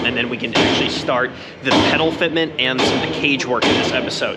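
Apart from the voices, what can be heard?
workers banging on a rally car body in a metal shop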